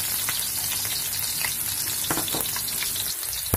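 Garlic sizzles in a pan as the base for sautéed shrimp paste, a steady close frying hiss with a few stirring scrapes and clicks, loud and uninterrupted by voices.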